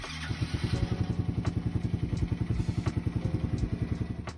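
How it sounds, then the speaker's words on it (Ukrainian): A motorcycle engine idles while warming up before carburetor tuning, a steady, even chugging pulse of rapid exhaust beats, fairly close and alone with no talk. "як особисто я налаштовую карбюратор на своєму мотоциклі. Для початку прогріваємо наш апарат."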